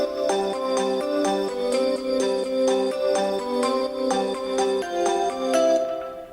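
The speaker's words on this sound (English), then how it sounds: "I used this preset, BL, so Bells Sweet Dreams" A sweet synth bell preset from a pop music sample pack, played an octave down, rings out a repeating melodic pattern of bright struck notes with shimmering overtones, steady and clear with no voices.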